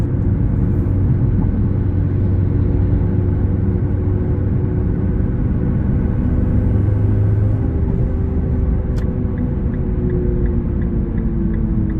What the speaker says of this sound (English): Now with these Toyo R888Rs, it is going to be a little noisy in the cabin.